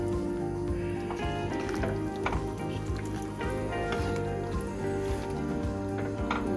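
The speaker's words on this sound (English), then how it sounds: "we're going to add the tortellini. Give that a stir." Tortellini being stirred into a simmering pot of vegetable soup, giving a steady bubbling, sizzling wet churn with soft squishy stirring sounds running continuously throughout.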